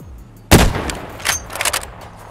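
Escape from Tarkov gunfire: one loud, sharp shot rings out, then a scattered burst of quicker, fainter shots follows.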